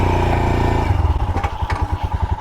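Royal Enfield Himalayan single-cylinder motorcycle engine running in first gear, a loud close thumping idle that turns into a rhythmic, uneven chugging pulse with some mechanical clatter.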